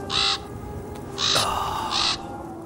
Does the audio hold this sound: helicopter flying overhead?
no